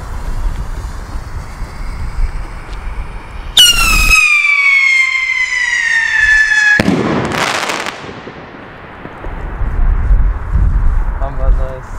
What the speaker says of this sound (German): Jetzt machen wir mal so eine Sirenen-Rakete,